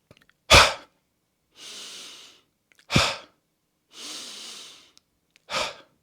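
Breathing exercise: a sharp, loud exhale burst followed by a softer, longer inhale, repeated in a regular rhythm close to the microphone, with three quick forceful exhalations separated by drawn-in breaths.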